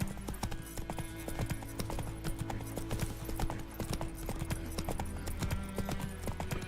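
Horse hooves clip-clop in a steady trotting rhythm, close and continuous, over a droning game music bed from The Witcher 3, as Geralt's horse Roach trots along.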